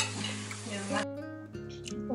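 Panettone dough being mixed by hand with a fork after the mixer broke, a steady wet stirring and scraping with a faint sizzle-like texture, close and continuous, then quieter clinks in a kitchen.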